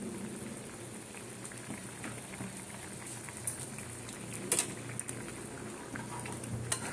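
Jackfruit kofta curry gravy boiling in a pot, a soft steady bubbling with scattered small pops and splutters, close but quiet, no talking.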